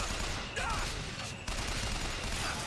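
Flak cannon fire in the shooter game Bioshock Infinite, a loud burst of blasts and mechanical clatter filling the short stretch with a brief drop in the middle.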